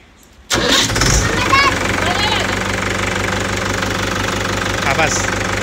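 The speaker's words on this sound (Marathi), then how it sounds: "ट्रॅक्टर नोटन कर आणि ट्रॅक्टर चालू कर।" A tractor engine cranks and catches at about half a second, then settles into a loud, steady diesel idle with a knocking, rumbling rhythm, heard up close.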